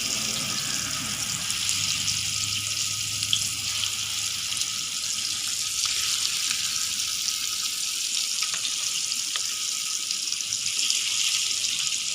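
Fish fries in oil on a hot stone pan, giving a steady, bright hiss of sizzling oil with scattered pops, heard close and without talk for about twelve seconds.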